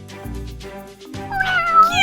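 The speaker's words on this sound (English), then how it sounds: "He brought home a pet kitten, which wasn't so great at first." A pet kitten meowing in a children's bedtime story: a series of drawn-out, tonal meows close up and loud, rising into higher, wavering cries toward the end, with no talking over them.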